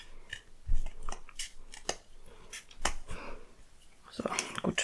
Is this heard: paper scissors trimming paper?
yes